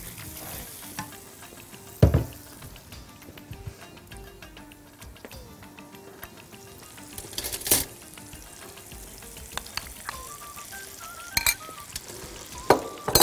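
Onion frying in a pan at home, a soft continuous sizzle near the microphone, broken by occasional sharp clinks and scrapes of a utensil against the pan.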